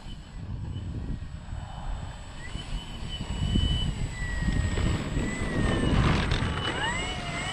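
A small radio-controlled E-flite T-28 model airplane's whining engine passes overhead, pitch rising and falling as it flies by, over a constant low rumble of wind.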